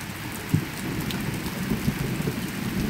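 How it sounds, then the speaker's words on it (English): Heavy rain pours down steadily in a continuous dense hiss, with low thunder rumbling faintly underneath, a constant outdoor storm wash with no talk. "Look at this rain."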